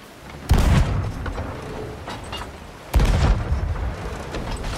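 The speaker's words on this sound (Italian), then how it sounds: "Cannone di destra, Oliva." Two heavy booms of ship cannon fire in Sea of Thieves, spaced a couple of seconds apart, each a sharp loud blast with a rumbling tail, heard alone during a naval fight.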